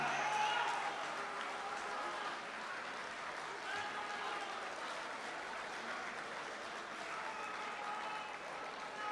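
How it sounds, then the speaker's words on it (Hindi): Steady audience applause fills a hall at an Urdu poetry mushaira in Qatar, sustained and fairly even throughout without clear speech over it. "जरा मिल के ताली बजाइए।"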